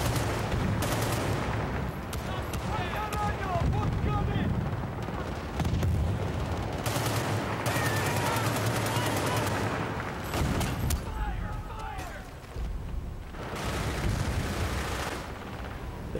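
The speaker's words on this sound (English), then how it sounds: "Just climbing up here for the anti-aircraft gun thing." A mounted anti-aircraft gun in the video game Bad Company 2 fires in repeated heavy bursts, loud and booming, amid continuous battlefield noise with gaps between volleys.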